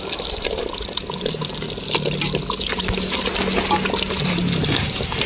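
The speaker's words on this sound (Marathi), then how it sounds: "छान त्याला उकळी आलेली आहे" Chicken dum biryani gravy boils in a pot, a steady bubbling, gurgling wash that runs throughout at moderate loudness with no talking.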